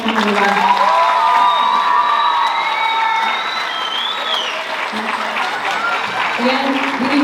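Audience at a high school spring concert applauding and cheering in a large hall, a dense, sustained clapping with shouts and whoops on top, fairly close and loud throughout.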